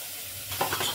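Eggs and boiled potato are dropped into onion, garlic and chilli frying in a pressure cooker for egg curry, a soft sizzle giving way to a short stirring scrape and a louder hiss.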